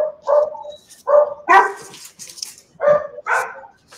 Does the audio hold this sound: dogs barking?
yes